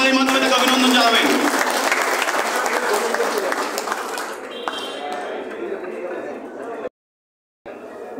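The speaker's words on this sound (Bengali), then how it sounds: "সবাই একটু করতালির মাধ্যমে তাকে অভিনন্দন জানাবেন।" Audience applause at a prize distribution ceremony: steady, dense clapping from a crowd that gradually thins and fades, then stops abruptly before a brief quiet gap and a faint resumption.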